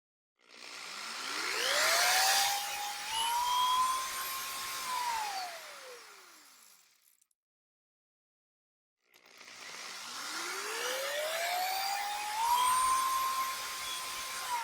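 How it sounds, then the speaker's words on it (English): A power drill whines up to speed drilling holes for a deer skull mount bracket and runs for several seconds, then stops; after a pause it spins up again for a second run, close and loud. "All right, so we're going to drill."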